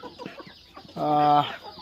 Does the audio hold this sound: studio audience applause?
no